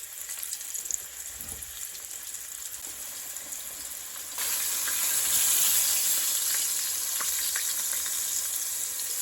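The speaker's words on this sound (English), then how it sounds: "Oh yeah, it's rolling. Frying up real nice." Floured beef liver fries in hot grease with a steady close crackling sizzle that swells louder partway through and keeps hissing without any talking.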